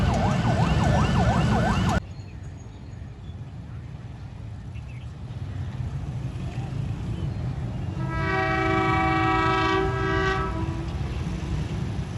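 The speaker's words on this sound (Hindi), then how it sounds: "ट्रेन आ चुकी है। To down Khyber mail." The Khyber Mail of Pakistan Railways arrives at Shahdara Bagh Junction with a steady rumble of rolling wagons, then a long, loud multi-tone horn blast, after a brief siren-like wail at the start.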